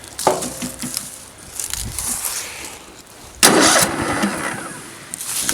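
Cub Cadet riding mower engine cranking and catching at half throttle with some choke, a sputtering start followed by a louder burst of running engine, fairly close.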